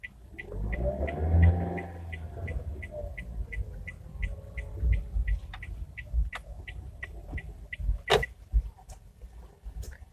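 A car moves along a narrow single-lane road, its engine rumbling low and passing nearby, with creaks and rhythmic ticking in the background.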